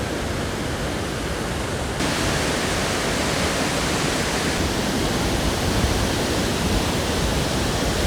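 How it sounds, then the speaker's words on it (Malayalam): Loud, constant roar of rushing water from Ezharakund Waterfalls in Kerala's Paithalmala valley, a dense unbroken wash of noise close by. "നല്ല വെള്ളം അടിച്ച് കയറുന്നുണ്ട് കേട്ടോ"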